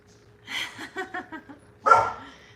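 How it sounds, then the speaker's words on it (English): Indoor dogs bark in a home kitchen during a live baking stream: a run of five or six quick, moderately close yips followed by one louder, fuller bark, with quiet room tone between. "Doggies, doggies. You're okay. You don't need to bark."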